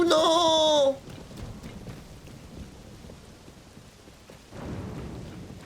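Rain falls steadily through a stormy scene in the video game Zelda: Tears of the Kingdom, with a low rumble of thunder swelling near the end after a short musical jingle.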